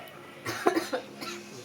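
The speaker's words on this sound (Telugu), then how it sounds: "ఉప్పు వేసినా కూడా దగ్గు వస్తుంది." A short burst of coughing, two or three quick rough hacks close by, in an otherwise quiet room.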